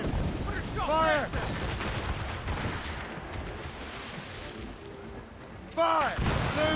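Heavy ship cannons boom in repeated volleys during a naval battle in Assassin's Creed Rogue, loud and rumbling, with crew members shouting orders over the gunfire.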